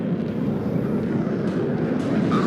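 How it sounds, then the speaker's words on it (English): Steady, dense roar of a MiG-29 jet flying in the Warno wargame, with a broad low rumble that holds loud and constant throughout. "And I need a MiG-29 to suicide into this thing"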